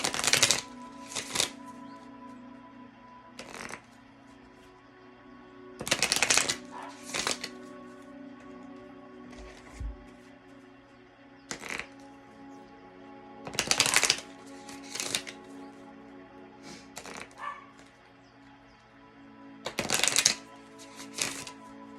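A deck of Messenger Oracle cards is shuffled by hand in repeated bursts of riffling and shuffling, with short pauses and a faint steady hum between bursts.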